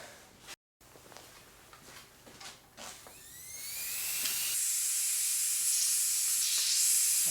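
Pressurized air leaking from an NPT pipe thread, a few clicks and rattles, then a rising hiss that swells into a loud, steady close spray.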